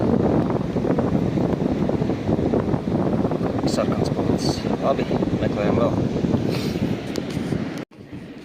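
Loud, constant wind buffeting the microphone on a beach during a sea storm, a dense low rumble running throughout while a person speaks over it, cutting off abruptly near the end.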